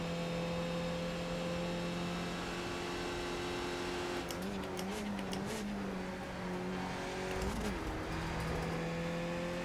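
A Skip Barber race car in iRacing drones steadily with a constant engine tone. The pitch dips and wavers through gear shifts or corners midway, with faint clicks over the continuous sound.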